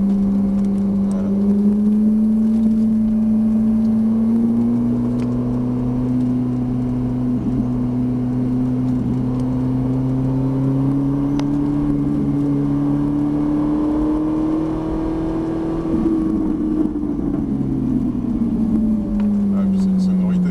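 A Ferrari 458 Italia's engine sings on a track driving course, holding a sustained high-revving note that slowly rises in pitch, then drops off as the throttle lifts, loud and close inside the cabin.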